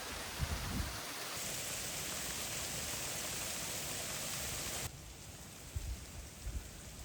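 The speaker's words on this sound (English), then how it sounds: "We've got hail." Hail pelting down outdoors in very cold weather on a cattle farm, a steady dense patter of ice hitting the ground that drops slightly in level partway through, with a few low thumps near the start and end.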